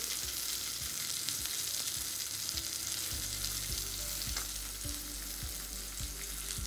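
Marinated pomfret fish fries in hot oil in a pan, a constant close crackling sizzle with soft periodic ticking spatters and no one speaking.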